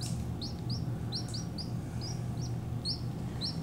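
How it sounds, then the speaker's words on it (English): A lone small chick peeps again and again, close and clear, in a quick irregular series of high chirps over a low steady background rumble. "Poor little bird. All by yourself."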